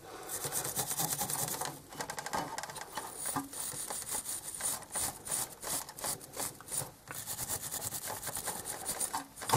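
Repeated rhythmic scraping strokes on a scale model car chassis during a repair, a raspy rubbing that pauses briefly now and then. It is close, with no talking over it.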